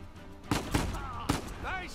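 Gunfire in the video game Uncharted 4 gives three sharp close bangs in quick succession, with game voices heard around them.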